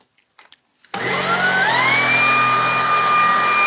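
A Tineco cordless vacuum cleaner switches on after a few faint knocks and runs at full power, a loud steady whine with a rising tone that settles and holds close by.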